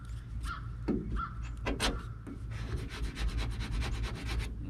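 A hand scraper peels flaking paint off a Chevy van, with faint, close rasping strokes that turn into a quick run of even, rhythmic scrapes near the end.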